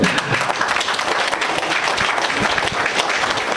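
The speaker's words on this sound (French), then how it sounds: "Ce candidat valeureux, je vais vous demander également de l'applaudir, s'il vous plaît." An audience claps steadily for a candidate at a Guinean community presidential installation ceremony in Port-Gentil, a dense, even burst of applause filling the room with no talk over it.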